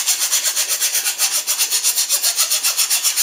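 A smooth file section strokes steadily over wood in a forge modification, a rhythmic rasping rub repeating several times per second, close and fairly loud with no talk.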